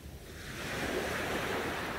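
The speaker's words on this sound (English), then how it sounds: "enjoying the peaceful waves and the remaining calm time at sunrise" Gentle ocean waves wash steadily onto a shore at sunrise, a soft continuous surf with some wind that swells a little after the opening moment and then holds at an even level.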